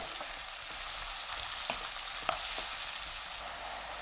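King oyster mushrooms stir-fried with perilla oil and fine salt in a pan for a garlic mushroom side dish: a steady, close crackling sizzle with a few sharp clicks from stirring.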